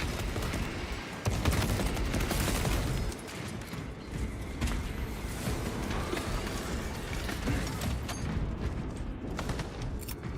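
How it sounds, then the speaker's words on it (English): Cannons and heavy guns fire in a Warhammer 40,000 video game, a dense, continuous barrage of booms and rattling mechanical clatter that stays loud throughout without a break. "Those cannons are the Imperium's wrath made manifest. All this firepower."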